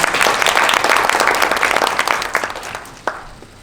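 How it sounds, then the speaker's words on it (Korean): A crowd applauds at a Korean political gathering with Won Hee-ryong: loud, dense clapping at the start that thins out into scattered claps and fades over a few seconds. "큰 박수 부탁드립니다."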